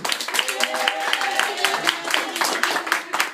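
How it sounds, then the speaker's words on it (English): A small audience claps for a performer playing the Birch Maiden at the close of a fairy-tale show, scattered hand claps over a few seconds with voices mixed in. "round of applause for the Birch Maiden"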